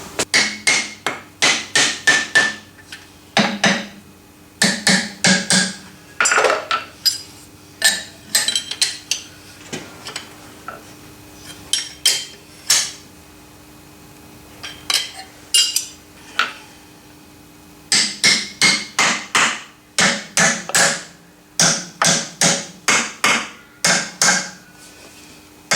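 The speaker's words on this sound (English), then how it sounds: "I'm back with the brass hammer" A brass hammer taps vee blocks clamped on a metal shaper, sharp metallic knocks in rapid clusters of several blows, with short pauses between bursts, close and loud, no talking.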